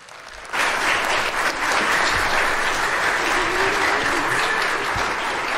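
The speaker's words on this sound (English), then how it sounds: "let's give them one more round of applause." A church audience breaks into loud sustained applause for a children's Christmas presentation, the clapping starting abruptly after a brief quiet moment and continuing steadily throughout.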